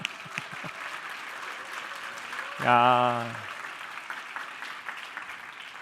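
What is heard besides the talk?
church audience applauding to welcome newcomers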